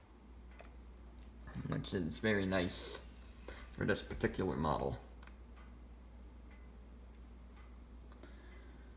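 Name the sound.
Howard Miller Presidential grandfather clock ticking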